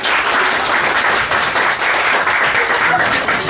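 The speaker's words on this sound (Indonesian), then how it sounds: "Bagi tepukan kepada dia" An audience at a Malay book review session claps continuously and loudly, a dense even wash of applause lasting the whole stretch.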